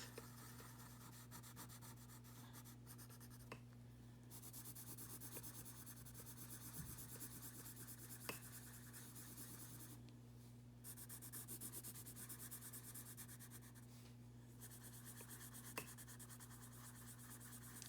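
A pencil colors in a giraffe sketch on paper, producing a steady, faint, scratchy rubbing of strokes with occasional brief pauses and light taps, all close and quiet.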